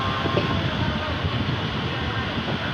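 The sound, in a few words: train arriving at Gomti Nagar railway station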